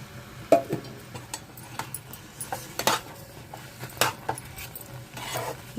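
Spoon scraping and clinking in a pan as ghee is stirred into rava kesari, a sweet semolina dish, giving irregular close metallic taps and scrapes over faint kitchen background.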